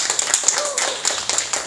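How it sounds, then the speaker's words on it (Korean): Short burst of clapping from a small group gathered in a Korean exercise session for older people with hemophilia, fairly close, with uneven claps over about two seconds. "박수 한번 주시고"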